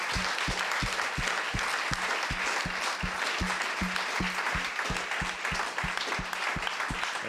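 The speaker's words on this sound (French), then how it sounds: "ils méritent des applaudissements" An audience at a live event applauds steadily, dense even clapping filling the room throughout without pause.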